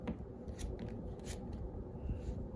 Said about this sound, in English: I'm gonna go ahead and I'm gonna shuffle up real quick